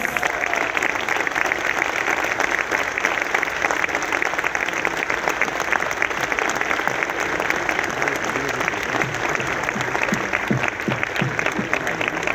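Loud, sustained applause from a book-fair audience at a literary event in Peru, a dense wash of clapping that carries on steadily without a break for the whole stretch.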